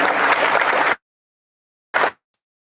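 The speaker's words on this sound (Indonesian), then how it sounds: "Saudara perlu untuk kasih aplaus sedikit untuk ini." A church congregation at a revival service gives a short burst of applause lasting about a second, then falls silent before a brief second flurry of clapping.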